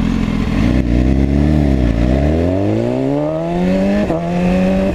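A Honda CBR 1000 sport motorcycle, apparently brand new, roars past close by with a loud rising engine note that sweeps up in pitch as it accelerates, alone with no talk.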